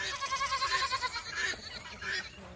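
Goats on a cold-morning farm in Leesville, South Carolina, bleating in a wavering, noisy cry that carries through outdoor background noise over a few seconds.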